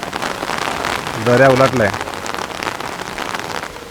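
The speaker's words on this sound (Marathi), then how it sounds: "खूप पाऊस पडतोय गावी" Heavy rain pours down steadily over a Konkan village, a dense, close hiss of drops on surfaces throughout, with a brief spoken remark cutting through the downpour midway.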